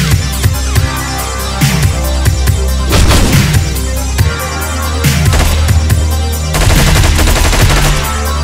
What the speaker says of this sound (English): Frantic little bastards who just shoot everyone and everything before they find you.